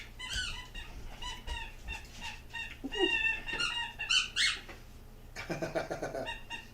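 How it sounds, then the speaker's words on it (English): A dog chews on a squeaky ball indoors, setting off a rapid string of high squeaks in irregular bursts, close and fairly loud, with pauses between the flurries. "That's my little Polly playing with her squeaky ball."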